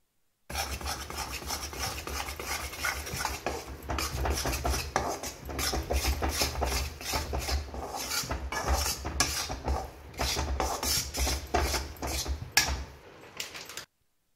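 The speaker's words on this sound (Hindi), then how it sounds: "अब मैं इसमें बेसन ऐड करने के बाद इसको अच्छे से मिक्स करूँगी" Spoon scraping and stirring gram flour (besan) into ghee in a pan, a steady run of close rasping, clinking strokes over a low kitchen hum for about thirteen seconds, with no talk.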